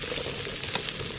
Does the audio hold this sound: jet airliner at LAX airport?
no